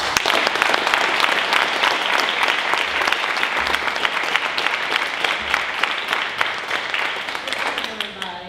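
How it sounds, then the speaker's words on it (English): Loud, sustained applause from an audience at a justice rally at Southern University, dense clapping that fills the whole stretch without a break, close and continuous. "So please give her a big round of applause."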